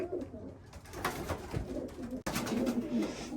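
Young pigeons coo softly and repeatedly in the background, their low throaty calls overlapping amid faint rustling, with no speech.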